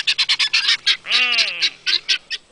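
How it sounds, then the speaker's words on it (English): A flock of birds squawk and honk as they take off, sounding as a rapid burst of harsh, close calls, then one drawn-out cry and a few scattered squawks as the flock leaves. "they are squawking away"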